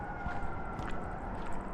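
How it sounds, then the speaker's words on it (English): An emergency vehicle siren wails faintly in the distance over a steady low rumble of traffic near Nose Hill. "Where is that siren going?"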